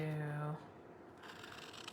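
Scissors snip through stamped paper pieces during a card-making craft session, giving a loose run of close, crisp cutting and rustling that follows a brief voice at the start.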